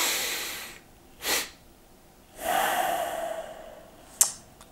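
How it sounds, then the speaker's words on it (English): A person breathing in a relaxation exercise: a short quick inhale, then a longer drawn-in breath topped with a sniff, followed by a long hissing exhale and a sharp click at the end, close and alone. "I inhale for a count of three or four, and then at the very top, I sniff in a little bit more air and then let it go"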